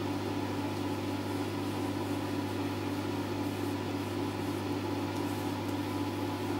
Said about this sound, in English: I'm so sorry about that buzzing noise.